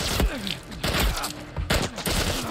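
Rapid gunfire in The Last of Us Part 1 game: repeated volleys of sharp shots crack out in quick succession, while voices shout faintly among the bursts.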